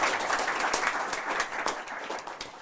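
Audience applause at a startup pitch battle, a steady wash of many hands clapping at moderate volume throughout, with no clear voices over it.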